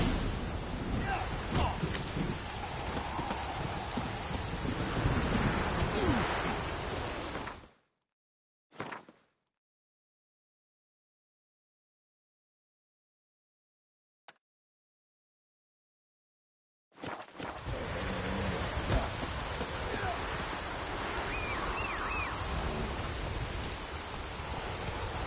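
Steady rain and storm ambience from The Witcher 3 on PS4 fills the opening seconds and returns near the end, broken by a long silent gap with a couple of brief bursts; no thunder clap stands out.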